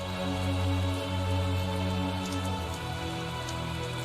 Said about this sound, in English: It must be all the rain we're having.